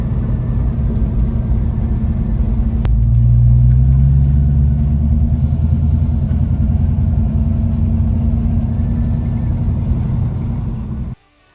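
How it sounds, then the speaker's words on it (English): A Ford Mustang Foxbody on the road gives a continuous deep engine rumble and drone, close and loud from inside the car, swelling slightly before cutting off abruptly at the end. "Alright, just went on the first successful drive."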